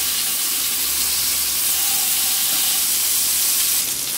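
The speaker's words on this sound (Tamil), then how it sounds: "இப்போது நம்ம எல்லா சைடும் நல்லா திருப்பி போட்டு ஃப்ரை பண்ணிக்கலாம்" Hariyali chicken drumsticks in a green marinade fry in a pan while being turned onto every side, giving a steady, loud broadband hiss and sizzle of hot oil with no talking.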